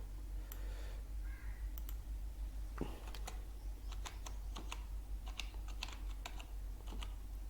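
Keys clacking on a computer keyboard as a word is typed, a quick run of sharp, fairly close taps in an uneven rhythm over a steady low hum.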